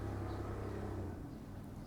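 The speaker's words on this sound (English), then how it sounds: "That's a loud ass car." Loud car passing nearby, a deep engine rumble and droning hum that is strongest at first and then eases off as it moves away, with no speech during the pass.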